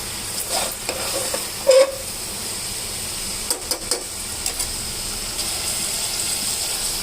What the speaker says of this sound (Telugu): ఇప్పుడు కారం వేసుకుందాం. కొంచెం ఇట్లా వేగితే బాగుంటుంది